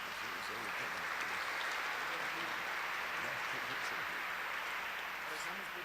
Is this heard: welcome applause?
yes